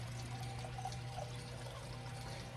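Blended malt Scotch whisky pours steadily into a glass, a soft continuous liquid trickle over a low steady hum, close and fairly quiet for a few seconds.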